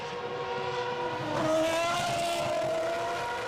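A 2006 Formula 1 car drones past at a distance as it heads in for a pit stop, a faint rising engine whine that swells and holds, with no voices.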